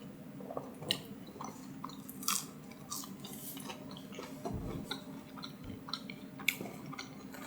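Someone chews crinkle-cut fries from Culver's close to the mic, with soft, repeated crunching and moist mouth sounds at an irregular pace and no talking.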